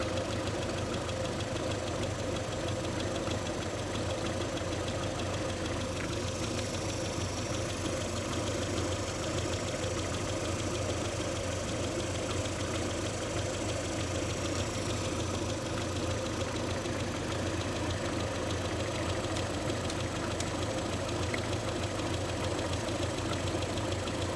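An MG Midget engine idles steadily at close range after a valve clearance and rocker cover gasket job, its tickover raised slightly, a continuous even mechanical hum with faint tapping throughout.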